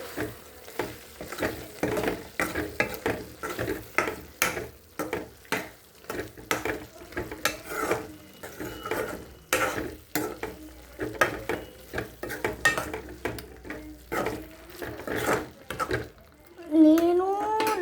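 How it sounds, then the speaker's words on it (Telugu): Chicken curry being stirred in a pan with a spoon, giving repeated rhythmic scraping strokes over a soft sizzle, close by and fairly steady throughout. "దాని తర్వాత కలుపుకోవాలి."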